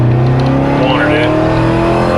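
A 2006 Crown Victoria Police Interceptor on burnout tires revs its engine loudly and close, a steady roar rising in pitch partway through, with a voice speaking over it.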